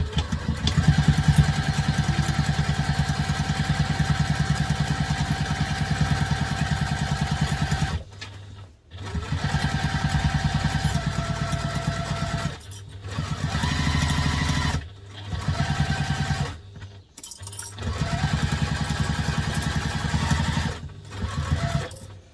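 A sewing machine stitching at construction length runs in several long, steady whirring bursts, separated by brief pauses where it stops, loud and close.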